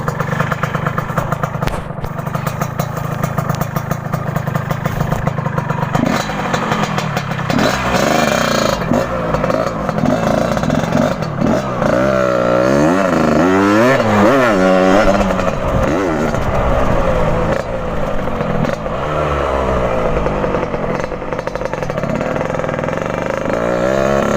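A Yamaha RX King SE motorcycle engine runs loudly and steadily on a test ride, its pitch rising and falling as it revs and shifts through gears, with no talking.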